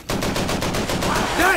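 Rapid automatic gunfire in Call of Duty 3, a loud continuous burst of evenly spaced shots with a brief shouted voice near the end.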